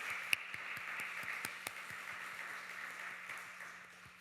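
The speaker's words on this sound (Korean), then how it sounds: "박수 올려드리도록 하겠습니다." A church congregation at a Sunday evening service applauds quietly, with scattered, distinct claps over a faint, low hum and soft room noise.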